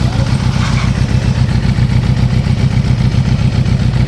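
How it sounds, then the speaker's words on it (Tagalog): A Suzuki Impulse 400cc motorcycle engine idles close by after carburetor tuning, with a steady, low, throbbing rumble and light mechanical clatter. "Ganda ng makina na ito, oh. Tahimik pa, oh."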